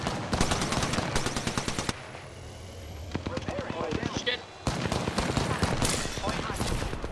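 Gunfire in a video game match, loud rapid bursts of automatic fire close by, stopping briefly and then resuming, with players talking over the shooting.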